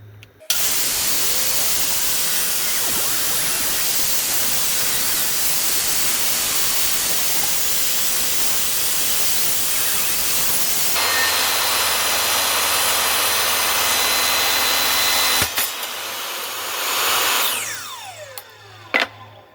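A power saw cuts wood for a cutting board, the piece fed with a push stick: a loud, sustained roaring whine through the cut, then a lower hum as the blade runs on, followed by spin-down and a couple of knocks.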